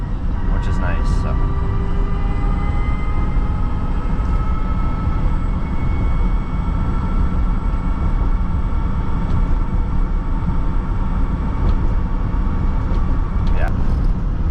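A Voltrix E Wagon electric golf cart is being driven along, giving a steady broadband rolling noise with a faint whine, loud and continuous, while a person talks over it.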